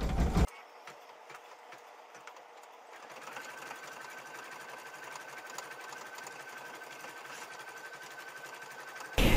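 An embroidery sewing machine stitches a gnome design with a 7x12-inch hoop, giving a steady, fast mechanical whirring hum that holds evenly across the clip with no talk.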